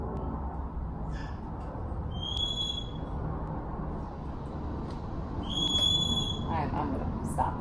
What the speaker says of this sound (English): So first my bird was screaming